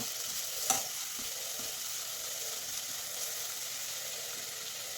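Sliced onions and green chillies frying in hot coconut oil with a piece of cinnamon and cloves, a soft steady sizzle and hiss with one brief clink near the start, quiet and without talk.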